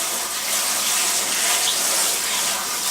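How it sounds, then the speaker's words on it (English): Cold tap water pours steadily over strained food in a home kitchen, a continuous, close, loud gushing hiss from start to finish with no talk. "So I'm going to run some cold water on it."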